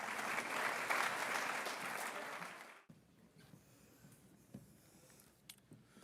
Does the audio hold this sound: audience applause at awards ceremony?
yes